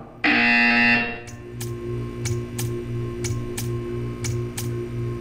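A loud electronic buzzer from the Portal 2 test chamber blares for about a second, followed by a steady low machine hum with regular faint ticking clicks.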